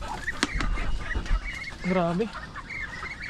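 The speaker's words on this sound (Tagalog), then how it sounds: "Dito tayo sa pato." Several ducks honk and quack in a noisy flock in a muddy backyard pen, with a person speaking briefly nearby over a muddy outdoor background.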